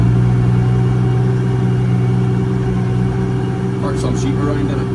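A 1200 tillage tractor engine runs in a loud, steady, close low drone with a constant hum. A brief higher squeal comes near the end.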